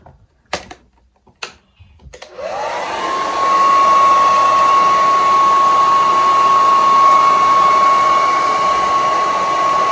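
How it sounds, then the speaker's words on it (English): A blow dryer switches on after a few soft knocks and runs steadily with a loud whooshing roar and a thin whine, drying glue on a lace front wig. "I'm just gonna go ahead and take the blow dryer again"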